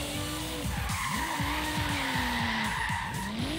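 Tires skid and squeal as a Nissan Skyline GT-R drifts in the Forza Horizon 3 racing game, with sweeping squeal tones rising and falling over a steady, loud engine drone.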